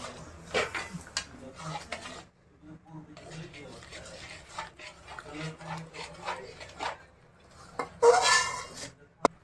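Adadiya mixture stirred in a pan with a spoon, scraping and knocking on metal in irregular bursts under intermittent speech, ending in a louder clatter, close by.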